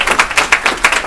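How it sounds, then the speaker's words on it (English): A round of applause for a police officer who placed first on a sergeant exam, at a North Miami city council meeting: close, steady clapping from a small group with rhythmic bursts, no talking over it. "let's give her a round of applause"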